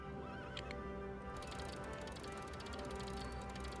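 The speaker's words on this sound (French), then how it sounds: "Libérez les chevaux." Horses in the Lego Indiana Jones video game neigh and whinny over clip-clopping hooves, with a steady bed of game ambience behind them and no speech.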